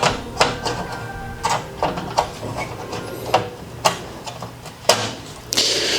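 A worn electric screwdriver used while building a gaming PC, giving repeated short mechanical whirring bursts and clicks at irregular intervals.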